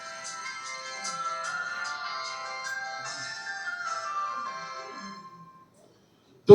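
A mobile phone ringtone plays as a steady electronic melody for about five seconds during a Hindi religious discourse about Lord Ram, then stops.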